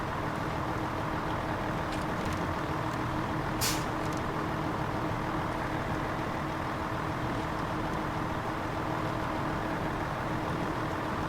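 A heavy truck in SnowRunner drones with a steady, loud engine rumble throughout, with a brief sharp hiss like an air release partway through and no talk.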